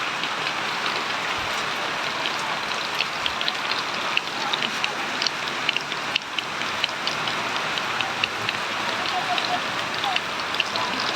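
Dense, steady patter of rain drumming on a roof, with scattered sharper drips throughout; a voice is faintly present underneath.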